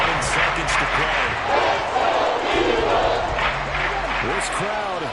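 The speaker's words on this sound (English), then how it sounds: "This crowd turning up the decibel level." Stadium crowd roaring at an NFC Championship football game with the Rams on the field, a dense sustained wall of noise with scattered shouts and whistles rising and falling across the clip.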